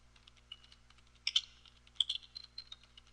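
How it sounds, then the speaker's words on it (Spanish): Keys pressed on a computer keyboard while coding CSS, a quick irregular series of light clicks and taps close to the mic, with no talking. "Presionamos las teclas de control y signo de cierre de interrogación y escribimos"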